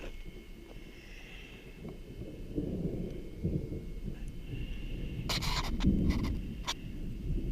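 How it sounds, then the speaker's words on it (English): Thunder rumbling in the Dixie National Forest near a lava flow, a low deep rolling rumble that swells and persists over wind noise, with a few sharp clicks of handling noise toward the end. "Thunder and lightning."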